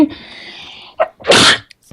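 A single loud, close sneeze bursts out after a short intake of breath, sharp and explosive, standing alone with only brief faint sounds around it.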